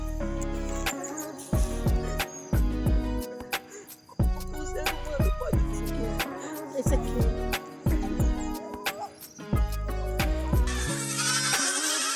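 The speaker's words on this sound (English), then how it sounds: "Hungry and impatient, a group of baby goats rushes out of the pen" Young goats bleat repeatedly in overlapping, high wavering cries, several animals calling close by in quick succession.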